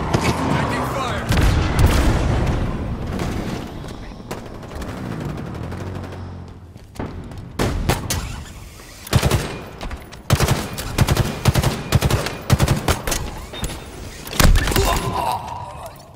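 Gunfire and explosions in the video game Halo Infinite, dense bursts and sharp repeated shots with booming impacts, mixed with in-game voices.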